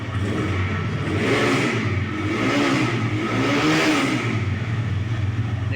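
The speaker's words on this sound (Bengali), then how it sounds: "দেখতে পাচ্ছেন বাইকটা কিন্তু মোটামুটি স্টার্টে আছে" A motorcycle engine runs steadily at idle, a smooth continuous mid-pitched hum with a slight rhythmic swell, heard close and alone without talk.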